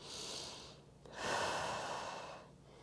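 Close, audible breaths during a core and glutes exercise: a breathy exhale, a short pause with a quick snort-like catch, then a longer, stronger breath that tapers off, with no talking.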